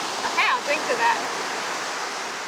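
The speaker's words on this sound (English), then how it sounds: "Between the constant cicadas and now these crashing waves, I can hardly ever hear what they're saying." Waves crash on a beach during an outdoor picnic, a steady broadband roar that fills the scene while voices talk briefly over it.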